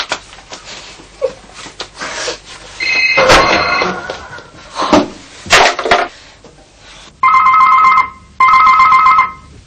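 A telephone rings in bursts near the end, two clear electronic ring trills separated by a short gap, after a stretch of clattering thumps and knocks like cupboards or a door being handled.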